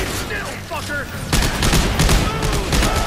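Loud gunfire in the video game Dead Space 3, a rapid fusillade of overlapping shots that kicks in partway through over a noisy game backdrop, with voices faintly underneath.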